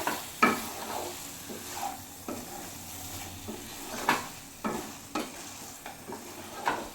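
Chicken cooking with spices in a pan for butter chicken, soft sizzling with scattered scrapes and clinks of a spoon stirring against the pan, fairly quiet and close with no talking.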